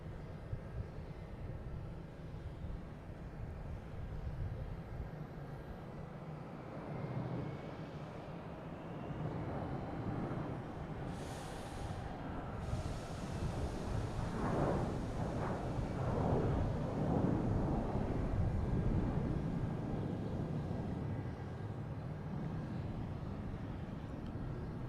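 A JetBlue airliner takes off from Boston Logan Airport bound for San Juan, its engines a broad, steady roar that swells a little in the middle and stays loud throughout, with no talk.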